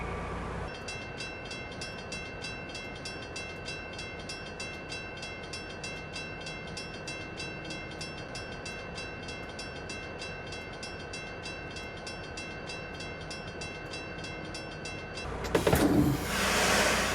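A passenger train on the Aurora-to-Chicago line in Train Simulator 2015 pulls into Naperville station, a steady rumbling hum with a high electrical whine that cuts off abruptly near the end, followed by a brief clatter.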